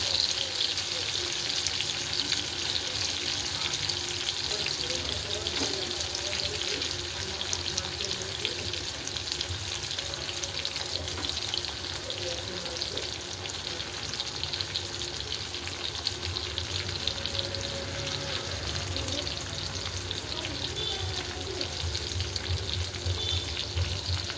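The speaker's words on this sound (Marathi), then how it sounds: "आता आपण एक एक करून शिमला मिरची भरून घेऊया आणि तेलात मध्ये सोडून घेऊया" Stuffed bell peppers (shimla mirchi) sizzle steadily in hot oil for a sabzi, a dense continuous frying hiss with faint watery crackle throughout, no voices.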